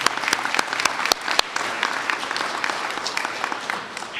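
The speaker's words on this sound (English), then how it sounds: "So let's give another round of applause to Under Secretary Kolko." A crowd applauds with brisk, dense clapping that swells at first and then gradually fades out.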